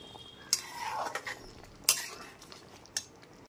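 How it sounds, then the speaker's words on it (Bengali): A spoon scrapes and clinks against a pan while garam masala powder is stirred in, with three sharp metallic taps standing out over a soft, continuous scraping. "গরম মশলা গুঁড়োটা খুব ভালো মতো মিশিয়ে নিচ্ছি।"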